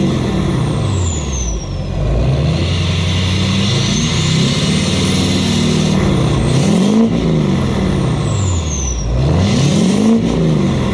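Diesel engine of a Duramax LLY pickup truck fitted with a 5-inch MBRP exhaust, loud and close, with repeated revs rising and falling over a steady deep idle.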